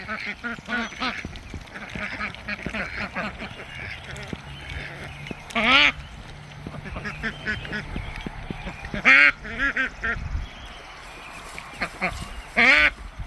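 Several ducks quack in loud bursts of rapid calls, with quieter chatter and background movement between them; some faint talking underneath.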